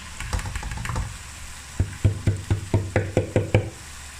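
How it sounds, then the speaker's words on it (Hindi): Boiled lentils are stirred into sizzling fried masala in a pan. A hot sizzle runs under a quick series of about ten rhythmic stirring scrapes and knocks, close and clear. "तो अब हम इसके अंदर डाल देंगे जो हमने दाल को बॉईल करके रखा था, वो डाल देंगे इसके अंदर।"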